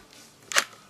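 A single sharp camera shutter click from a Nikon set to manual mode, close and brief against a quiet background.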